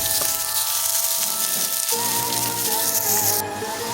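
Ground beef sizzles and crackles steadily in a hot pan, a loud close frying hiss with a brief shift as more meat hits the pan partway through, no voices.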